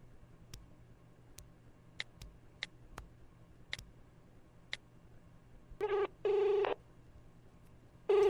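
A series of short electronic phone keypad beeps, spaced unevenly, followed by a couple of longer, louder tones near the end in a quiet room, in a Tamil short film.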